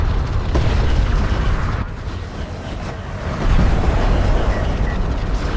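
Missiles blasting in a real-time strategy battle, a dense, continuous roar of overlapping explosions and rumbling booms that stays loud throughout.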